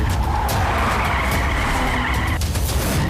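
Tires squeal and skid loudly in a car chase, a sustained screech with engine noise, no talk.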